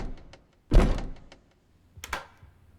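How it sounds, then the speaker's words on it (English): A door opens in Perceptum, a horror game: one loud low thunk followed by a fading rustle, then a softer second knock about a second later, with no one talking. "Well, the door's back open."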